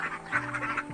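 Several laying ducks, currently molting, quacking close by in quick, repeated nasal calls over a brief moment.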